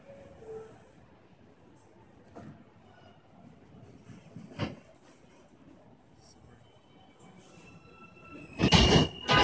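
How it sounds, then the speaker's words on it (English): A train rumbles and clatters at a distance with scattered clanks at a New York Transit Museum parade of trains, rising to a loud rushing burst near the end as it passes close. "I found a blue train and a brown train"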